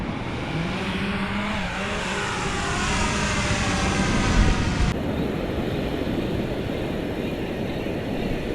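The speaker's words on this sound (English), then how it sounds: "Down here drone fishing for snapper this morning." A fishing drone used for snapper fishing flies over water, giving a continuous buzzing whine that swells slightly before dropping to a duller, steady hum with wind.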